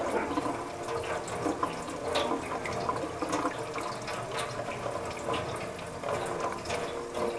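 Gluten dough is rinsed under lukewarm tap water, giving a steady, fairly loud rush and splash of running water that continues without a break.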